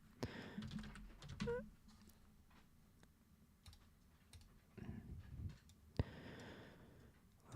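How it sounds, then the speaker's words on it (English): Typing on a computer keyboard at a desk, a short run of quiet, uneven key clicks with scattered taps and a few louder thunks, faint and close, without talk. "I'll just type it in here."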